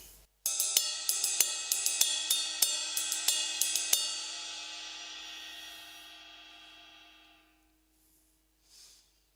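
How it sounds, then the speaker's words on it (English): Paiste 2002 Power Ride 22-inch ride cymbal struck in a steady pattern of about a dozen bright pings over a shimmering wash, then left to ring and decay slowly, close and clear with no talk. "2002 Power Ride 22-inch,"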